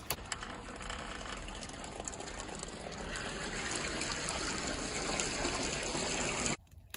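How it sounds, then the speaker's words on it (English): Maple sap pouring from an opened tap into a boiling pan at a sugar bush, a steady close trickling gush that builds slightly and then stops abruptly near the end. "I open this tap and the sap pours into the pan"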